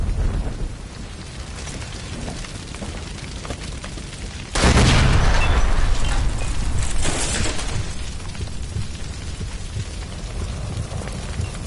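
A gas line blown up by gunfire in a PS4 action game bursts into a loud, sudden roaring blast that swells, then settles into a sustained crackling rumble over steady background noise.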